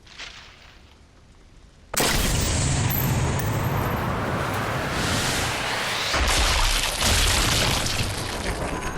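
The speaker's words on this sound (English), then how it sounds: "Let's shoot this guy." A Sniper Elite 4 sniper rifle shot breaks a near-silent stretch with a sudden, very loud blast, then a long, dense roaring rumble sustains for several seconds.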